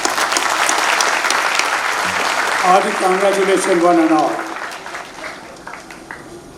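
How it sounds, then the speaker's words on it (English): Dense audience applause fills a speech event, steady and loud, while a speaker's voice talks over the middle of it before the clapping thins and fades toward the end. "Put your hands together and give yourself a thunderous applause."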